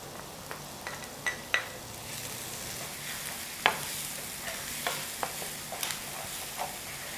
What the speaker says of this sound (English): The aroma is already coming out as you're stir frying onions and your garlic.